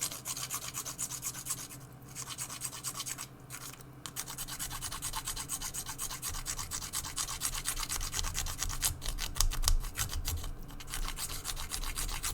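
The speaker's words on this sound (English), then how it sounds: "I'm actually gonna grab my round back file here, just get it wet." A round file rasps back and forth in quick, steady strokes against a wet 3D-printed part, close and fairly quiet, with a few brief pauses.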